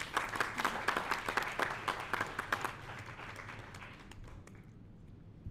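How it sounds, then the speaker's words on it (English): An audience applauds the newly crowned Miss World 2024 at a press event in Mauritius. Dense clapping starts strong, then thins and fades out over several seconds, with no speech on top. "A big round of applause."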